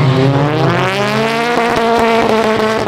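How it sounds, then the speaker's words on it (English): Touring cars race past on a track, very loud and close, engines roaring at high revs with rising and shifting pitch as several cars sweep by, no talking. "They are so loud, them touring cars."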